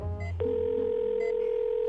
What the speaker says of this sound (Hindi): अथर्व ने अपने फोन से मुझे कॉल मिलाई